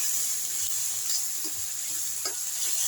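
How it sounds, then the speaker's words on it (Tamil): Onions sauté in a pan with a soft, continuous low sizzle and faint stirring clicks, close and steady with no talking. "இப்போ வெங்காயம் வதங்கிடுச்சுங்க."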